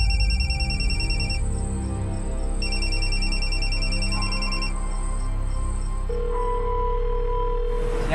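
Telephone on a domestic set rings in repeated bursts, a bright electronic trill repeating steadily and unanswered, fairly loud and close with no voices.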